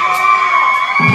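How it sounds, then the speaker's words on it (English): A bar crowd screams and cheers loudly in one sustained, close wave of shouting and whooping voices. "I want this whole bar to scream"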